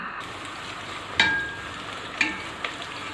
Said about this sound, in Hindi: अब इस प्याज को हमें मीडियम ब्राउन करना है।